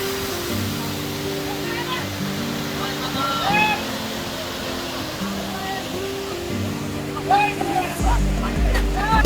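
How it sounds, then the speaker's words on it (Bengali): Jaflong waterfall in Sylhet roars as a broad, constant rush of falling water, loud and close, with tonal musical sounds and bursts of voices layered over it. "পানির এত শব্দ যে"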